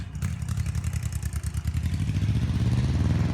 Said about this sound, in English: And there goes the motorcycles